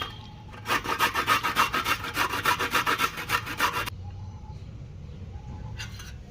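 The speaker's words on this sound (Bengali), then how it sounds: "বিটটা আমার ঘষা হয়ে গেছে, এবার গাজরটা ঘষে নেব।" A carrot is grated by hand for vegetable chops, producing a quick run of about a dozen rhythmic rasping strokes close by, then quiet room tone with a brief scrape at the end.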